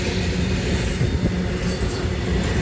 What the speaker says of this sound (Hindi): माल गाड़ी जा रही है अभी यहाँ से